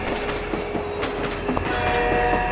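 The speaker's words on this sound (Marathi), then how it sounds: "मी हॉर्न वाजवत आहे" A train rolls along a railway track with a rumbling, rattling clatter, and its sustained horn tones sound over the wheel noise, close and fairly loud, as a sound effect in a horror story.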